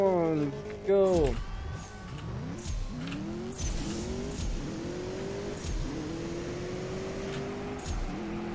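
A BMW M8 Coupe launches in a CSR2 drag race, engine revving high at the start, then climbing through several gears in rising, falling sweeps, loud and close with some talk over it.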